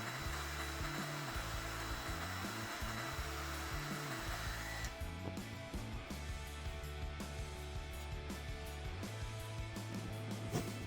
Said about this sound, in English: I slide the larger shrink tube over everything and shrink it down, giving the bond extra strength and a nice clean finish